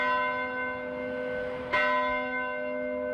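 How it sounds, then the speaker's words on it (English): A single church bell strike at Augustana Lutheran Church, a bright clang ringing out mid-clip over the lingering hum of a previous toll, with a long sustained decay. "170 tolls of a church bell"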